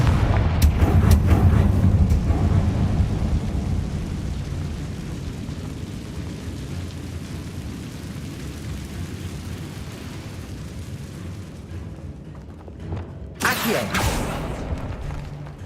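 Confringo blasting spell in Hogwarts Legacy, a heavy boom that rumbles and slowly decays for several seconds, then a second sharp burst near the end.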